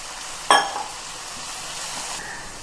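Egg thokku masala sizzling in a pan as a little water is poured in: a sharp burst of hissing spatter at the start that quickly settles into a soft, steady sizzle and steam hiss, with no voices.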